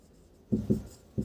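Three short, soft scratching strokes of writing on a board, low and close, spaced unevenly after a quiet start.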